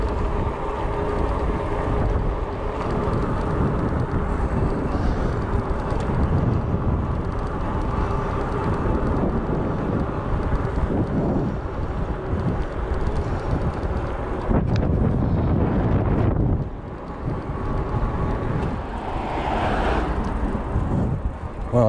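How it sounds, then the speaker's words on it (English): Strong wind blowing outdoors during a bike ride, a constant loud roar buffeting the microphone for the whole stretch, dipping briefly before rising again. "it's probably going to get a little bit or probably already too breezy"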